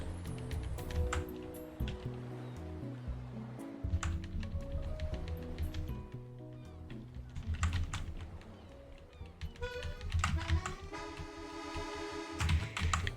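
Computer keyboard keys clack in quick bursts of typing and tapping during a Pokémon game session, close and fairly loud, with a person speaking at times.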